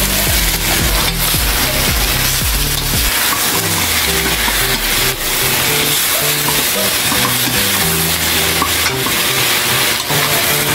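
Stingray cooks in a pan with onion for coconut-milk ginataang pagi, with loud continuous sizzling and frying mixed with repeated stirring and scraping of a wooden utensil against the pan.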